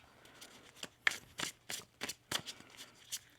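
Tarot cards are riffled and shuffled in a quick series of crisp, papery flutters, close by, with brief pauses between bursts.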